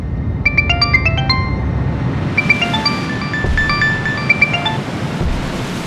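A phone rings with a melodic ringtone in short repeated electronic phrases, ringing twice over a steady, noisy background hiss; no one speaks.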